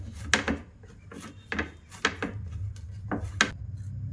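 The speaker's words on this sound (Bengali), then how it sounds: "এবার আমি একটা মসৃণভাবে একটা ডো বানিয়ে নেব" Semolina dough being kneaded by hand with a little ghee for pulli pitha, giving soft repeated pressing and slapping thumps in an uneven rhythm, close and fairly quiet, with no talk.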